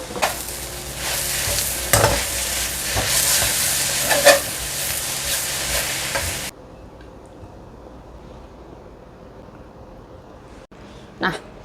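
Tofu skin stir-fried with celery and garlic leaves sizzles loudly in a pan, with scraping stirs and clatter for several seconds before the sound cuts to quiet room noise with an occasional faint clink.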